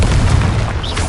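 Confringo fire blast spell in Hogwarts Legacy, a short, loud, low booming burst of explosion that holds steady for about a second, heard alone with no talk.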